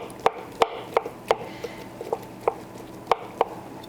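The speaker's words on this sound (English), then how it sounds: "We're going to take our knife and just start chopping a little bit." A knife chopping barbecued pork on a cutting board, about ten sharp, evenly spaced thuds over four seconds, close and crisp against a quiet room.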